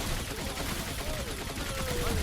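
Ceiling cannons fire in rapid bursts in Orcs Must Die! Deathtrap, dense booming volleys layered over chaotic game noise and music, loud and continuous.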